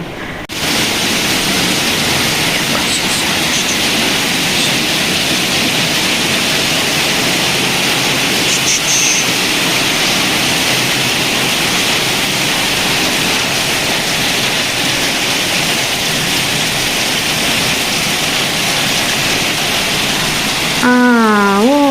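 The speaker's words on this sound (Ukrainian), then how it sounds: "От воно що шумить. Град пішов." Hail falling outdoors over a garden, a dense, steady hiss and patter that stays loud and unbroken for about twenty seconds, with a brief warbling tone near the end.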